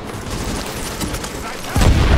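Gunfire in The Division on PC during a backyard firefight, a continuous crackle of shots running under the din, swelling louder toward the end as a heavier burst joins in.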